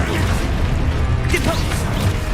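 Confringo spell explosions and other spell effects in Hogwarts Legacy, dense crackling blasts and mechanical clatter, loud and continuous within a busy game mix.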